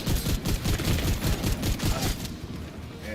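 Rapid video game gunfire from The Division 2, with dense overlapping automatic bursts that stay loud and close for most of the moment, then thin out near the end.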